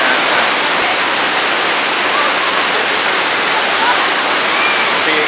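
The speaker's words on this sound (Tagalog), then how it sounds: "So ito na yung unang waterfalls na sinasabi nila." Waterfall on Mt. Cayabu in the Philippines, a steady, loud broadband roar of falling water filling the whole clip without a break, close by, with no voices standing out.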